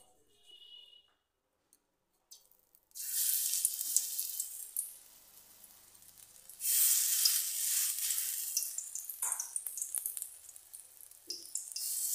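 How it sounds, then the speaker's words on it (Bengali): Greens fritters (gime shak kabiraji) frying in a little oil in a wok give bursts of sizzling: a quiet start, then a rising hiss with a louder surge midway, intermittent and close, with no speech. "এখন আমি অল্প তেল দিয়ে বড়া ভাজার মতো করে নেব"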